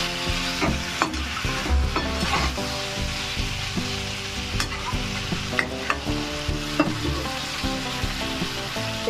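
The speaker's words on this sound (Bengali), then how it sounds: "চিংড়ি মাছটাও দিয়ে দিলাম, দিয়ে একটু নেড়ে তারপর আমি জল দিয়ে দিলাম।" Prawns with elephant foot yam frying in a pan, stirred with a utensil: a steady close sizzle runs throughout, broken by repeated scraping and knocking strokes of the stirring, with no talking.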